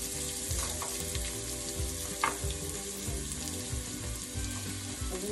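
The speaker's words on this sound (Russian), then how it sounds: "Все, морковку мы обжарили." Carrots fry in oil in a pan while preparing Korean kimbap, a steady close sizzle and crackle running unbroken throughout with no voices.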